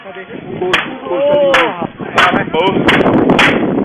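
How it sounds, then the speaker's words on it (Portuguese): Loud video-game gunfire with sharp cracks and bullet impacts bursts repeatedly in rapid succession, mixed with other game sounds. "Isso aí é as balas aí, ó."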